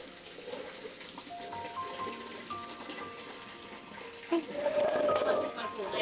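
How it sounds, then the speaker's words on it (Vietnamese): Tap water runs for washing vegetables in a kitchen, starting as a quiet trickle among light clatter and then swelling into a steady gush near the end, with people talking. "Để cô xả nước nhé Phúc nhé."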